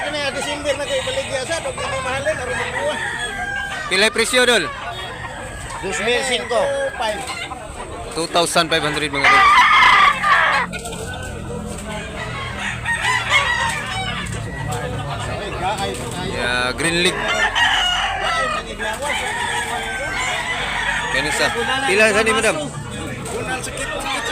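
Roosters crowing and clucking at a busy gamecock market in Cebu, loud calls rising repeatedly over a crowd's babble, with people talking throughout.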